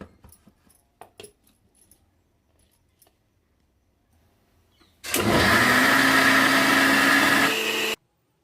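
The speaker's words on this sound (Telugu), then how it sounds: "ఇప్పుడు మిక్సీ పట్టుకోండి." After a few soft clicks and near silence, a mixer grinder blending dosa batter roars into a loud, steady whir for about three seconds, then cuts off abruptly.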